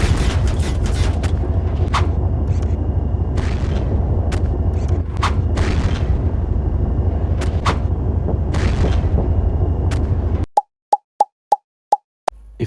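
Tank cannon firing in the mobile game Harekat 2, heavy rumbling battle noise with repeated booms, then a rapid run of six sharp, evenly spaced shots near the end.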